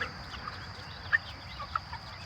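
Cornish Cross meat chickens, young pasture-raised birds of about 1.5 to 2 pounds, making soft scattered clucks and brief chirps over a steady low background hum, with no talking.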